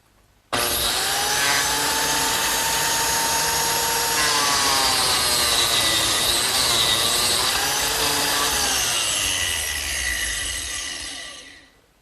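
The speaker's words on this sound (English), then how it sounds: "Now I can make slots for number 0 biscuits." Biscuit joiner cutting slots for number 0 biscuits in mitered wood pieces for a jewelry box, a loud whining motor spinning up abruptly, grinding steadily through the cut for about eleven seconds, then winding down.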